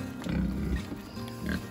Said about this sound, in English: One-eyed pig.